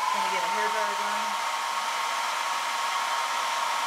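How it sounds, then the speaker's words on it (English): A hair dryer runs steadily and close, drying a coat of paint on a plastic pot, with a constant airy whoosh and a low motor hum that eases slightly after the first second. "I'm going to get a hair dryer going."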